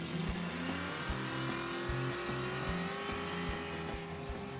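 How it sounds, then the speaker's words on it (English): A car tuned with a Powerjection 3 EFI system revs and drives, its engine note climbing steadily in pitch as it accelerates, loud and continuous, with rhythmic pulsing underneath and no voices. "You can drive your vehicle in a normal manner and then let it rip."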